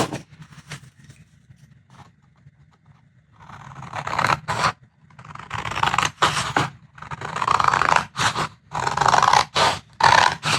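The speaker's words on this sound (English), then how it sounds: "we're just going to cut down that fold line we've created" Scissors cut along the fold of a folded paper sheet to make A5 sheets, producing soft scraping slices that grow louder into a run of rhythmic, close cutting strokes.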